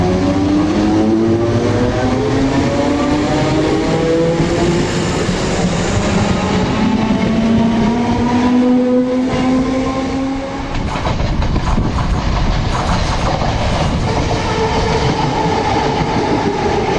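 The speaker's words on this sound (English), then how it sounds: "So just waiting for our train now" A ScotRail train arriving at a station in Scotland rumbles loudly nearby, with rising and falling wheel and motor tones and metallic squeals as it moves along the track.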